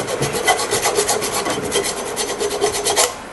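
Rust being scrubbed off a front brake part of a 2008 Toyota Highlander, a rapid, steady rasping of quick back-and-forth strokes, close and loud, ending abruptly.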